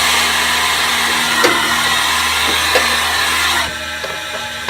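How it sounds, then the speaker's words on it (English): Vacuum line of a liquid silicone rubber machine opening and starting to suck in air, a loud steady hissing rush with a faint low hum, a few soft clicks, and a drop in level near the end. "There'll be a little noise as this starts to suck in."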